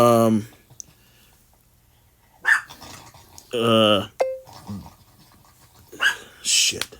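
Several dogs bark in sharp bursts close by, with panting and growling between them and a voice talking over parts.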